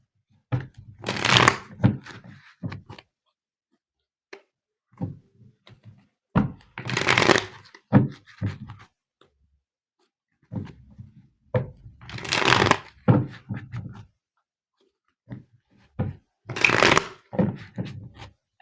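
Tarot cards are shuffled and drawn in four close bursts of crisp riffling and slapping, each separated by a few seconds of quiet.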